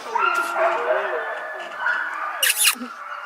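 Sled dogs at a mushing kennel in Skagway, Alaska, whine, whimper and yip up close while a person speaks warmly to them, ending in a brief sharp bark.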